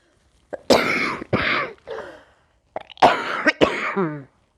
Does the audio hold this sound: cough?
yes